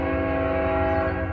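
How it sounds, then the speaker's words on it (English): A passing train sounds its horn in a loud, sustained blast that holds steady throughout, with the low rumble of the train underneath. "Sorry about the train."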